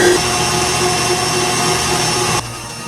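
A mixer fitted with a wire whisk beats sugar and egg yolks into a cream for a Sri Lankan love cake. The close whirring holds steady, then drops off sharply near the end.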